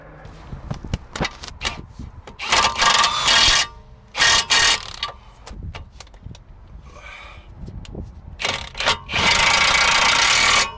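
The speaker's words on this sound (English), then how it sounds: "Yes, battery ratchet will do it." A cordless battery ratchet working on the suspension ball joint nuts of a BMW 320d E90, loud bursts of whirring in several runs of about a second each, separated by clanks and handling noises close by.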